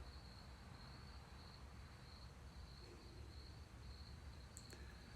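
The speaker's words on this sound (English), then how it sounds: "The crickets sound amazing right now." Crickets trill steadily in a continuous high chirping drone, faint and distant over a soft outdoor hiss.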